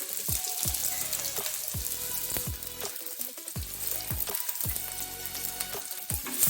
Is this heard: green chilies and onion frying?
yes